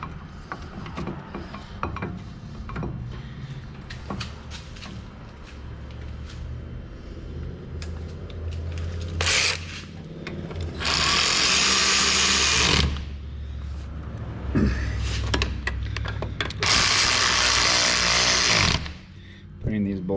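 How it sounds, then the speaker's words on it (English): Bolts being run down tight on a 2006-2012 Ford Ranger brake job: clicking ratchet strokes and metallic mechanical clatter with several loud, longer hissing bursts, close by, with a person talking in between. "Putting these bolts down nice and tight."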